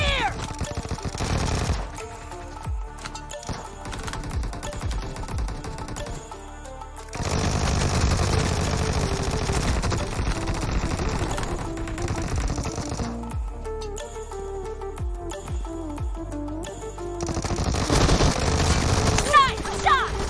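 Team deathmatch video game gunfire, with rapid rattling bursts and single shots over game music, loud and continuous with brief gaps, and voices calling out during play.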